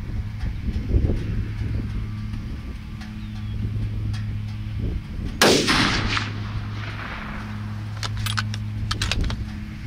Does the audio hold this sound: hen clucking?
no